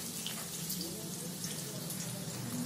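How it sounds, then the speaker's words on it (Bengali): Onion dropped into hot oil in a wok for a chicken curry makes a quiet, steady, even sizzle with no speech. "পেঁয়াজ দিলাম কড়াতে"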